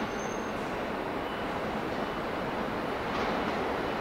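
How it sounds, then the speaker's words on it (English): An E233 series rapid train pulls into Musashi-Kosugi station with a steady rumble and rushing wheel noise that holds at a constant, fairly loud level throughout. No one speaks. "The rapid train will arrive shortly on track 4."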